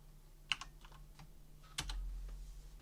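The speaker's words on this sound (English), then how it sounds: "all you've got to do now is enter your password" Someone typing a password on a computer keyboard while securing a Raspberry Pi 4 server; a few quiet, close key clicks, one sharper press near the start and a firmer one like an Enter key later, with a faint hum underneath.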